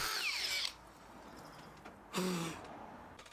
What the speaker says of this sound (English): To fit the box, I used the hammer setting on my combi drill to drill a hole.